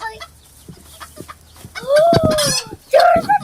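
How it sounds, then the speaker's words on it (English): A chicken clucks and squawks close by, a few loud bursts breaking over soft background noise and faint scattered sounds. "there's a chicken"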